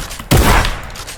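Gunfire from the combat gun in Fortnite, a video game: a single loud, sharp burst that breaks in after a short quiet lead-in and trails off quickly, with no voices.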